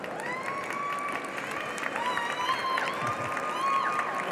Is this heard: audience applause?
yes